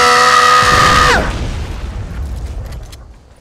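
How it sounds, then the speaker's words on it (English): A missile explosion in the Fortnite video game: a loud booming blast with a sharp falling sweep, then a rumbling decay that fades out over a few seconds. "Incoming missile. This is gonna get the missile."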